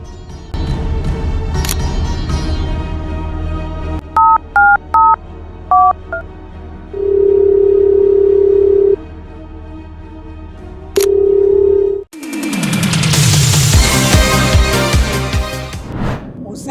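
A telephone number is dialed on a phone, a quick run of distinct keypad tones followed by long steady ringing tones, loud and close, with sound and voices before and after.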